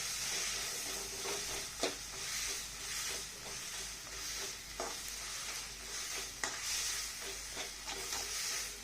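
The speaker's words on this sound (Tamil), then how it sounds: "பூசணிக்காய் வேகும் வரை கொஞ்சம் நன்றாக வதக்கவும்." Yellow pumpkin pieces saute in a pan for a pumpkin kara kuzhambu, giving a steady moderate sizzle with occasional stirring scrapes and clinks.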